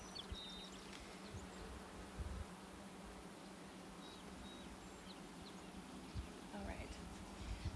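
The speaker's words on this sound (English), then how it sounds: "These bees here are more of the buckfast variety." Buckfast honey bees buzzing around a hive frame, a faint, dense, continuous hum with occasional louder passes close by, heard alone in a quiet outdoor setting.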